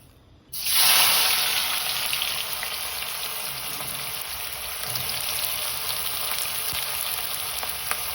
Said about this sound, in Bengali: এই তেলের মধ্যে দিয়ে দেবো পেঁয়াজ, বেরেস্তা ভাজার জন্য